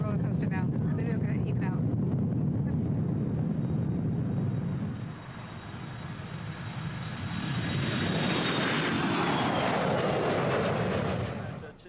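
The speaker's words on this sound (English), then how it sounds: "bracing herself for her very first takeoff" easyJet airliner taking off on a flight to Nice, with a loud, broad engine roar building and sustained, then a rising whine as the jet climbs; heard from inside the cabin.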